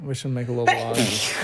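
A short, sharp sneeze bursts out right after a person speaks a brief sentence, close and fairly loud.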